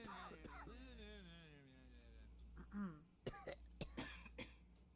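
A person coughs and clears their throat in a Roblox game session, several short sharp bursts in the second half following a stretch of droning, wavering voice-like tones, fairly close and moderately loud.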